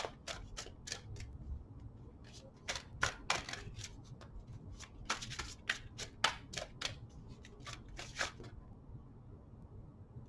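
Tarot cards are shuffled and snapped in bursts of crisp riffles and flicks, close and fairly quiet, with short pauses between handfuls and no speech.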